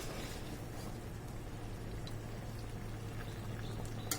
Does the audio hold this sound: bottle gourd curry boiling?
yes